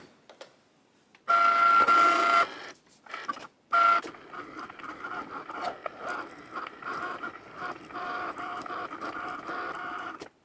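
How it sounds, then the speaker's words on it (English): A Cricut Maker cutting a piece of green cellophane, a loud mechanical whir and buzz in short bursts with brief pauses, then a steadier, quieter motor hum as the cut carries on. "Loading it back in, and let's cut out a piece of the green."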